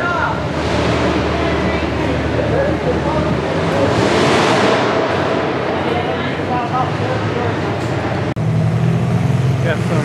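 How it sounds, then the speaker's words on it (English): Engines of cars run steadily at a demolition derby inspection line, a dense outdoor rumble under gusty wind noise, with voices faintly present. "if you guys hear the cars running in the background,"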